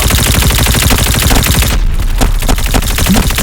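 Loud, close bursts of rapid automatic gunfire from a Call of Duty match, a dense rattling stream that breaks off briefly and then returns in scattered shots.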